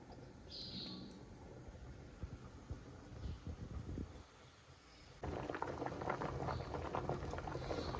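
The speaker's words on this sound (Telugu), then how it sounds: "పప్పు చూడండి, దానా ఉడికేస్తుంది" Mixed dal made with lentils boils in a pot, giving continuous close bubbling and popping that grows louder and denser toward the end.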